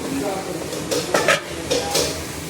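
Garlic and onion are stirred in hot oil in a pan, with scraping, clinking utensil strokes and a low sizzle running steadily underneath, close and moderately loud.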